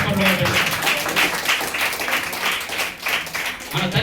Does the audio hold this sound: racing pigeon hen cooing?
no